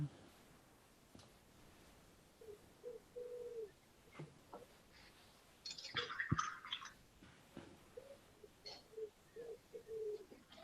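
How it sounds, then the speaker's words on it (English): Soft, distant pigeon cooing repeats in low murmurs against a quiet room, with a brief rustling burst partway through. "I can hear a pigeon in the background somewhere"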